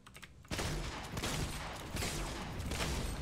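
Heavy shotgun blasts in the Fortnite video game, a dense run of loud, overlapping gunshots that starts abruptly after a short quiet lead-in and keeps firing with no voices over it.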